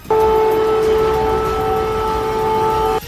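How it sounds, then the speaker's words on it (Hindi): A steady, loud air raid siren in Ukraine wails on one sustained tone for about three seconds before cutting off abruptly, with faint background noise. "लेकिन सायरन के बीच वहां से जोरदार धमाकों की आवाज भी सुनाई दी।"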